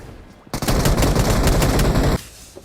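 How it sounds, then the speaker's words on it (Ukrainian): A long burst of rapid automatic gunfire in PUBG Mobile, loud and close, cutting in abruptly and stopping just as suddenly after about a second and a half. "Хтось у мене ззаді стріляє"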